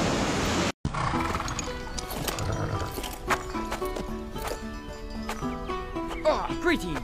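A horse whinnies amid clopping hooves and other animal sounds, with voices talking over it and a faint wash like surf in the background.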